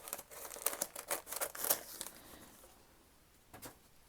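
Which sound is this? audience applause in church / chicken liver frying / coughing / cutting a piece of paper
cutting a piece of paper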